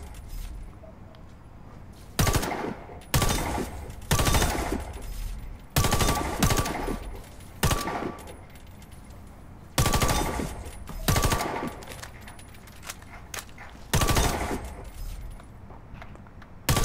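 Gunfire in the shooter game Warface comes as repeated loud bursts of automatic shots, about a dozen separated by short pauses over a quieter background, with no talk.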